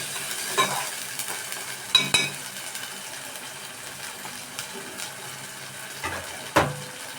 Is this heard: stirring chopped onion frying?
yes